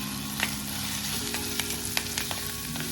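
Grated dried coconut roasts in oil with onion and tomato for a Konkani black pea usal, a dense continuous sizzle close up, punctuated by light stirring scrapes and taps, with no talking.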